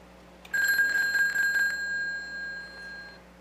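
A payphone wired to a VoIP box rings with an incoming call, a bright electric bell trilling loudly for about a second and then ringing on more softly as it fades, heard close and with no talking.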